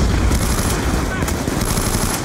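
An RPD machine gun fires in a Call of Duty game: a loud, dense, continuous burst of rapid automatic gunfire that is close and fills the whole moment.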